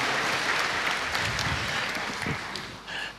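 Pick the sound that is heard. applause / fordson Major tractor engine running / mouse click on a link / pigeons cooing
applause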